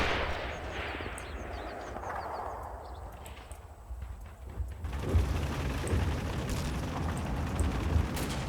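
Gunfire and distant battle noise in the World War II strategy game Combat Mission Battle for Normandy, a steady rumbling din that turns into denser crackling shots partway through.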